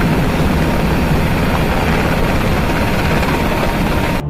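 Aircraft engines roaring during air-to-air refueling, with a tanker passing fuel to a receiver plane through a boom. The deep, loud drone holds steady and unbroken throughout.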